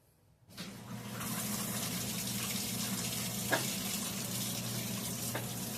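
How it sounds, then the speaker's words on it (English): Whirlpool washing machine, struggling with too little water, takes in a steady rush of fill water that starts abruptly and runs continuously, with a low hum beneath and a couple of faint clicks. "Then it added some water."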